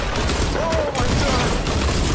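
Assault rifle fire in Fortnite, scoped weapon, dense continuous bursts of shots over game noise, with players talking excitedly around it.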